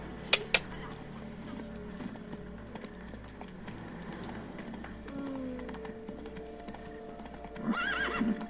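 Horse hooves clip-clopping in The Witcher 3: Blood and Wine, with a whinny near the end and two sharp knocks early on, steady over game ambience and music.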